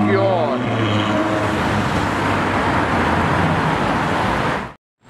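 A silver Ferrari 812 supercar drives past close by at a supercar gathering, its loud engine roaring steadily with rising harmonic tones before cutting off abruptly near the end.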